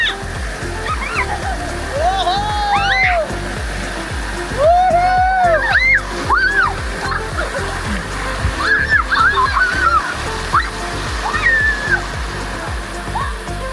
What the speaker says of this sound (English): Look at that raging waterfall!